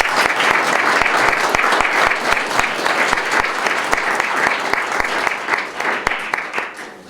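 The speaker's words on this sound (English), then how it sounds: "Let's please give them a round of applause." An audience at a Ritenour High School celebration applauds student leaders, a sustained burst of many hands clapping close and loud, with a few voices mixed in, thinning slightly near the end.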